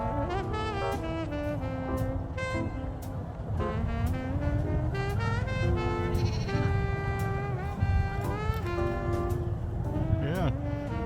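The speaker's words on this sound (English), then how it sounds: "Got some sheep." Sheep bleat repeatedly and loudly at close range, several overlapping calls in an irregular rhythm over a low vehicle rumble, with no talk.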